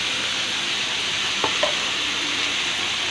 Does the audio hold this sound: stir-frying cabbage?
yes